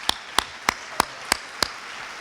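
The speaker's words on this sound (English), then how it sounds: "Round of applause." At a Martin Luther King Jr. tribute event at Wayne State University, six sharp, evenly spaced claps ring out close by, each a crisp single hit over a faint, diffuse background.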